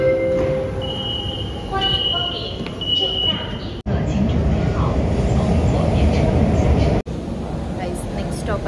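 A metro train rolls along with a steady loud rumble and rattle from inside the carriage, broken by two abrupt cuts, with chimes and faint announcements layered over the running noise.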